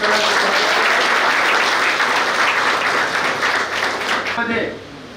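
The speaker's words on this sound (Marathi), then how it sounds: "सर्वांनी जोरदार टाळ्या वाजवून" Loud, sustained applause from a large crowd at an education society felicitation ceremony, dense clapping that fades out near the end.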